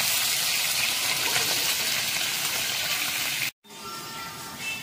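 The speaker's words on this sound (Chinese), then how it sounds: "煎的还可以啊，一点都没粘锅" Pieces of African lungfish fry in a pan with a loud, steady hiss of sizzling oil. The sizzle cuts out for a moment near the end, then returns slightly quieter.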